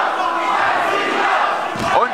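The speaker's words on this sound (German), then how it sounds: "Und wieder fordert es das Publikum, schmeiß ihn raus." A wrestling crowd at a live show shouts loudly and insistently toward the ring, a dense, sustained wall of voices that swells again near the end.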